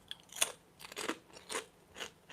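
A crunchy Dollar Tree snack is bitten and chewed close to the microphone, with four or five sharp, separate crunches spaced about half a second apart in an otherwise quiet room.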